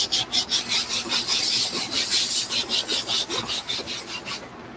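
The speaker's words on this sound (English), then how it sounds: "right now I'm using a wire tip bristle brush, which is okay to use on this material" A wire tip bristle brush scrubs a suede shoe in quick, rhythmic back-and-forth strokes, about three per second. The rasping is loud and close and stops abruptly at the end.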